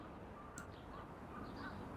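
Ambient outdoor bed of light traffic hum with crows cawing, a steady, moderately faint city backdrop with a few distinct calls over it.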